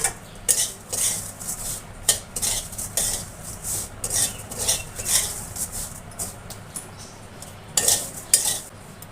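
Vermicelli roasting in a pan is stirred with a metal spoon, giving repeated scraping and clinking strokes in an irregular rhythm over a faint sizzle, close and fairly loud.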